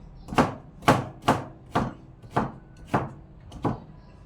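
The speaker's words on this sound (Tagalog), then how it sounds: "Habang ako'y naghihiwa dito" Knife slicing through vegetables on a cutting board, likely bottle gourd for a sautéed dish: seven distinct crisp chops at an even rhythm, close and clear with quiet gaps between.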